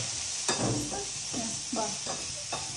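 Salt and cumin seeds are stirred through food in a hot pan, with a steady sizzle under a few distinct scraping strokes of a spoon, close by and with no talking.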